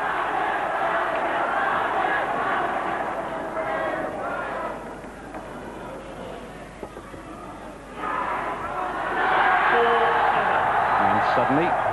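A large indoor crowd at a 1996 All England badminton match between Rashid Sidek and Poul-Erik Hoyer Larsen roars and cheers continuously. The noise dips briefly, then swells louder again, while a commentator talks over it.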